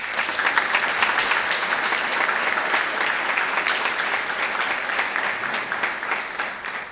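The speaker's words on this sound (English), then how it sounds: "And I think that in itself deserves a hearty round of applause." A crowd at a Model United Nations opening ceremony applauds steadily, dense clapping sustained at a loud, even level throughout.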